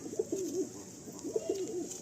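Pigeons of a tiger-generation breed coo nearby in two soft, rolling phrases, low and throaty, with a faint steady background hum and no speech.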